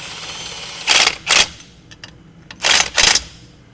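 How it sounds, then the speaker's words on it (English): Faint scraping clicks from Brembo brake pads brushing a freshly mounted rotor during a budget F-Body brake swap, four short bursts in two pairs with small ticks between, close and alone without talk. "That's just pad noise. It's not hitting the rotor or the caliper."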